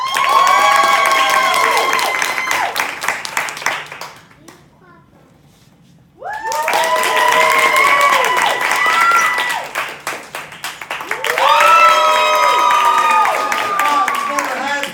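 An improv class audience of children cheers and shrieks loudly for the champion, with two long bursts of excited shouting and clapping separated by a short near-silent pause.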